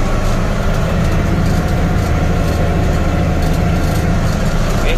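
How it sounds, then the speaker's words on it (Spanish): A Pauny 500 tractor idles steadily at close range in a maize planting field, giving off a continuous loud low rumble that holds level throughout with no one talking over it. "Está el tractor."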